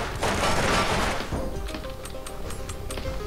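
A dense volley of gunshots rings out in the shooter game Receiver, loud sharp cracks for about a second, followed by scattered lighter impacts and clanks over a lingering rumble.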